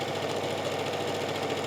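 A sewing machine stitches down a pull-up sleeve, giving a steady, close, continuous mechanical whir with a fast, even pulse and no talking.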